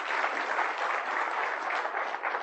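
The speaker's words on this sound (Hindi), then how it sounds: "let's have a clap for that leadership." An audience at an Indian Railways event applauds steadily for its leadership, a dense, even wash of many hands clapping at moderate volume with no voices over it.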